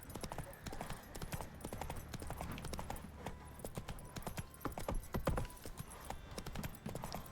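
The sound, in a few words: horse galloping in The Witcher 3 video game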